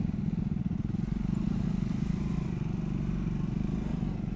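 A motorcycle rides steadily along the Malshej route in a continuous, loud low engine drone with a fast, even pulsing throb from start to finish.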